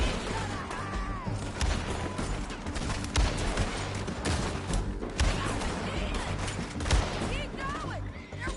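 Gunfire rings out in Red Dead Redemption 2 during a chaotic shootout. Repeated sharp shots crack over a busy battle mix, with shouting voices heard under and between the bursts.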